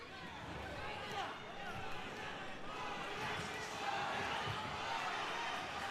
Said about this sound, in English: Coria crowd making noise.